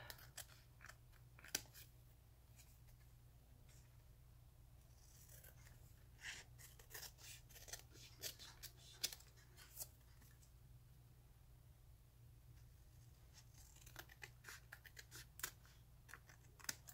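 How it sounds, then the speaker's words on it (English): Quiet, irregular snips and crisp cuts scattered over a low steady hum, like scissors trimming paper close by, with brief pauses between bursts. "Then get our scissors and cut the excess"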